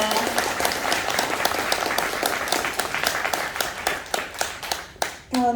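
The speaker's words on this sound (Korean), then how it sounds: "좋은 말씀해 주신 이만희 국회의원님께 다시 한번 큰 박수 부탁드립니다" Applause at a meeting with a National Assembly member at a disability welfare center in Cheongdo, starting as a full round of clapping and thinning to scattered individual claps, with a voice starting to speak at the end.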